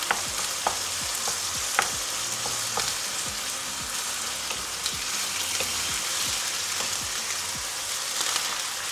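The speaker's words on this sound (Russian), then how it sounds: "теперь немножко помешаем, чтобы стало равномерно жариться с обеих сторон" Chicken sizzles steadily in a hot pan while a utensil scrapes and stirs at irregular intervals, close and continuous, with no talking.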